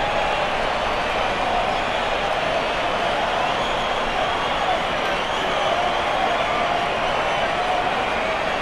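Crowd cheering after a goal in the AFL Evo video game, a broad, sustained roar from a big stadium audience. It holds at an even, loud level throughout.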